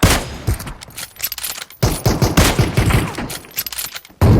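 Rapid gunfire in PUBG Mobile, with repeated bursts of close, loud shots and short rattling volleys broken by brief pauses, ending in a sudden blast.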